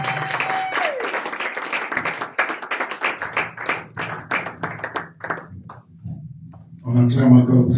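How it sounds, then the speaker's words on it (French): A church congregation claps in quick, steady rhythm, loud and close, with voices mixed in. Near the end the clapping swells into a fuller burst of crowd noise. "Let's clap again."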